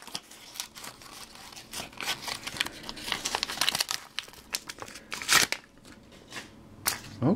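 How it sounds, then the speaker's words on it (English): Thick mail package holding a stack of Pokémon cards being cut and pried open with scissors, a steady run of close crinkling and crunching with sharp snips and tearing bursts, no talking. "Let's see if I can get my scissors in there without having to rip it too much."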